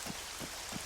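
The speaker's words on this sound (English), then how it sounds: "if you look at the rain right now, everything actually is not just visual with that rain" Steady, even rain hiss falls in the Arma 3 game world, a broad wash of drops that stays constant and moderately loud with no voices over it.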